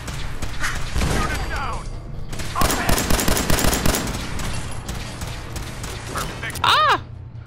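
Gunfire in the video game Fallout 4: loud bursts of rapid automatic shots and crackling impacts fill the scene, with voices speaking and shouting over the combat.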